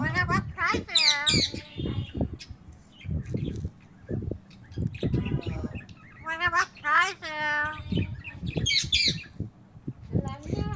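A pet bird mimics human speech in squawky, voice-like phrases, with loud shrill calls in bursts between stretches of close, talk-like chatter.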